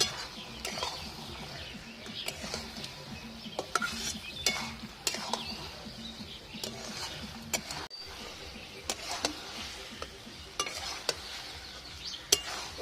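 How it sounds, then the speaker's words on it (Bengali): Chicken pieces are stirred and fried in a pan for a spiced braise, with a soft continuous sizzle broken by repeated sharp scrapes and taps of the spatula against the pan. "ভালো করে নেড়ে কষে নিতে হবে। এরকম করে ভাজা ভাজা করে কষে নিয়ে তারপরে জল দিতে হবে।"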